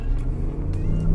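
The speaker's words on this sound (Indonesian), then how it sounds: "Terus kita gas." Lexus RX 500h F Sport SUV pulling away under acceleration, a short, steady, close engine and road rumble that builds slightly toward the end.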